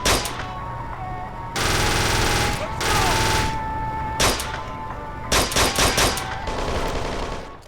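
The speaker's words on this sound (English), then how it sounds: "The sound effects are loud, bombastic and intense, making the shootouts really feel epic." Loud, heavy gunfire from a Kane & Lynch 2: Dog Days shootout comes in long sustained bursts and clusters of rapid shots, interspersed with brief lulls.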